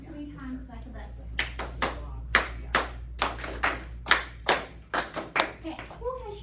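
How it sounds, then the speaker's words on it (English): A class of students claps in short, sharp bursts in a classroom, the crisp hand claps coming in quick groupings that follow a teacher's signal, with a faint hum in the background and brief voices at the start and end. "when you hear me clap twice, I would like you to clap 3 times like this"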